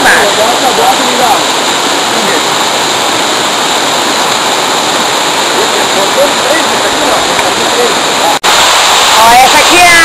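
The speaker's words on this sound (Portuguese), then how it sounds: "essa aqui é a sexta cachoeira" Loud, constant roar of a nearby waterfall, a dense rushing wash of water that barely changes, with a brief dropout near the end.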